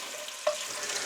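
Onions sizzle steadily in a pan over medium heat for a lamb rogan josh, a close, even hiss with one small pop partway through.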